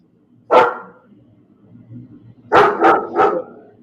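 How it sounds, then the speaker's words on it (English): A chihuahua barks indoors, one sharp bark followed after a pause by a quick burst of three loud barks, with faint room noise between them. "put the dog in the bathroom because the chihuahua's out. There's going to be some barking"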